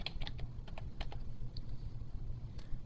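Someone types on a computer keyboard, a quick run of close, light key clicks in short irregular clusters over a quiet background hum.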